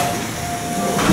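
Otis GEN2 traction elevator running inside a parking garage, giving a steady mechanical hum with a sustained tonal whine and rumbling ride noise throughout, no talk.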